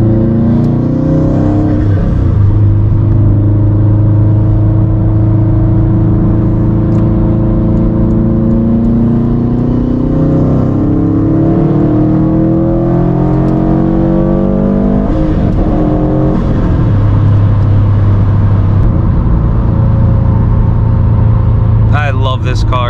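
Subaru STI with a blue turbo, running on E85 fuel, accelerating in sport mode, a loud, sustained engine roar that climbs and falls in pitch through gear shifts over a long pull.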